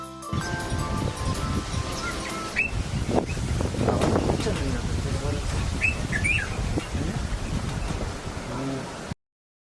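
A bulbul gives a few short, high chirps scattered through the middle and later part, sitting over a steady bed of voice and background sound.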